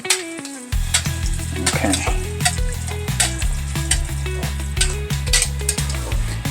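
Beef stock poured over browning meat in a pot, raising a loud, steady sizzle and crackle that runs throughout with scattered stirring clinks, and a brief spoken word near the start.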